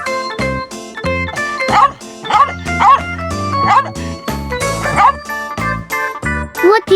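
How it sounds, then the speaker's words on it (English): A dog barks in quick, repeated bursts, loud and close, keeping a steady rhythm over continuous background music. "That's right, it's a dog."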